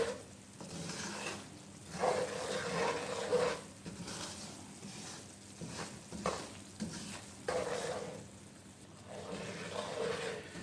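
Semolina roasting on a medium flame in a pan for suji halwa, a soft steady sizzle and scraping stir that rises and falls in waves, faint and close, with no talking.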